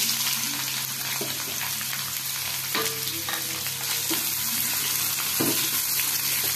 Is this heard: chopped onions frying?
yes